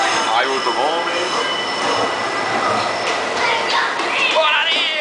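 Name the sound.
metro train running on rails, Cariri metro in Ceará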